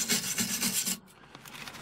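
A wire brush scrubbing rusty metal on the protection bars of an Aixam Mega Multitruck: close rasping strokes in a quick back-and-forth rhythm for about a second, then stopping, leaving quieter scattered scrapes.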